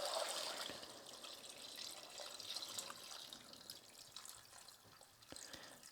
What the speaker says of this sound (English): that water, fresh, straight from the mountains, is going in